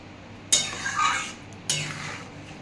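Whole green chilies are dropped and stirred into a pot of oats khichuri, giving two separate scraping clatters against the pot, close and otherwise quiet, with no talk.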